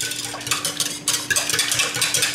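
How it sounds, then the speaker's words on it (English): A whisk beating eggs with no-fat milk and canola oil in a bowl: quick, scratchy clinking strokes of metal against the bowl in an uneven, brisk rhythm, close up, with no talking. "Just take a whisk, break the eggs up,"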